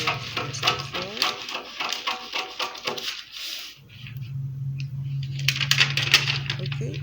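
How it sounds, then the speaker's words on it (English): Scissors cut out a paper sewing pattern around the armhole area, giving close, crisp snipping and crinkling paper sounds with a steady hum in the background. "I'm cutting out the armhole area first of all."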